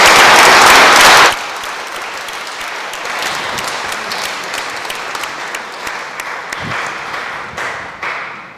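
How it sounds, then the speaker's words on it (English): A seated audience at a bar association citizenship forum in American Samoa bursts into loud, dense applause for two panelists, then drops sharply after about a second into a quieter room murmur with scattered claps. "give you both a big round of applause"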